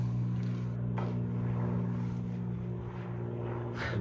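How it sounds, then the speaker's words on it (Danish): An airplane drones overhead outside an abandoned factory, a steady loud engine hum that holds for the whole stretch with no talk over it. "Der er sådan en fly der også."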